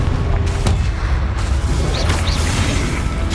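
Confringo fire spell blast in Hogwarts Legacy, a dense roaring burst of booms and crackling fire, loud and continuous with a few sharper impacts, and no talking.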